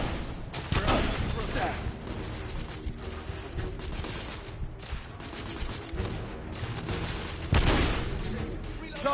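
Rapid bursts of gunfire from the PS4 video game The Order: 1886 crackle continuously across the clip, dense and loud, with mechanical clatter mixed in and heavier blasts near the start and end.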